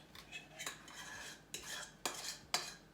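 Banana bread batter made with desi atta and ghee being mixed in a bowl with a utensil, soft scraping and stirring punctuated by several sharp clinks against the bowl, close and fairly quiet, with no talking.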